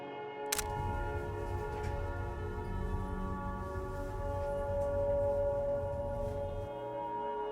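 A train on the Baikal–Amur Mainline arrives slowly at Novy Urgal station with a steady low rumble and a sustained tonal hum, a brief sharp clank near the start, the rumble dropping off near the end.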